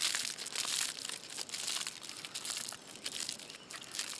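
Aluminum foil crinkles and crumples steadily as it is folded over into a pouch around a baked potato meant for cooking in campfire coals; close, fairly quiet, with no voices.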